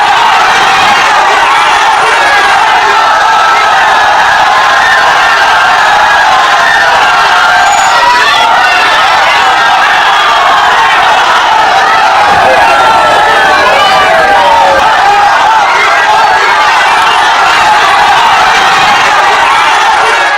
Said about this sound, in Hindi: प्रधानमंत्री को देखने के लिए हजारों की भीड़ थी सड़कों पर।